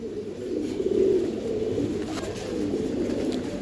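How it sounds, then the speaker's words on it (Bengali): Pigeons coo steadily in low, throaty murmurs at a pigeon farm, several birds overlapping close by with no pauses. "এই আরেক পেয়ার কবুতর"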